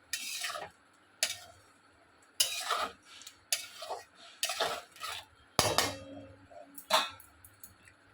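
A spoon stirs and scrapes a masala of turmeric and salt in a pan for a Bengali taro and hilsa dish, giving repeated clinking, scraping strokes at an irregular rhythm with quiet gaps between them, close by.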